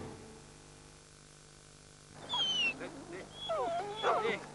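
A dog whimpers and yips in a French dog food advertisement from 1996, high whines arriving in short bursts after a quiet musical opening.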